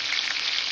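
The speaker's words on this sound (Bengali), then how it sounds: "কেটে রাখা আলুগুলি ভেজে নেব" Cut potato pieces frying in oil give off a brief, continuous crackling sizzle with fine popping, moderately loud and close, with no talking.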